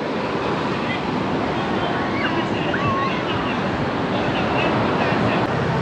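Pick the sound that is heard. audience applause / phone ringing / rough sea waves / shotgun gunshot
rough sea waves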